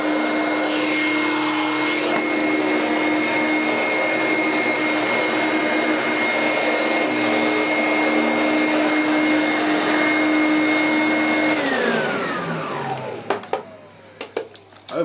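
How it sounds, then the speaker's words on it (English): A Vorwerk ET340 vacuum cleaner with a turbo head runs loud and steady with a constant motor whine for about twelve seconds, then winds down and stops, followed by a few faint knocks. "Right, now I'm going to readjust and we'll do some vacuuming"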